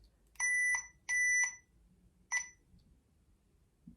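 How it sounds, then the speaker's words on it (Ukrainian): An electric dog training collar gives short, high electronic beeps in three bursts, two quick doubles and then a single beep, close and clear against a quiet outdoor background. "а ще ж пікалка є"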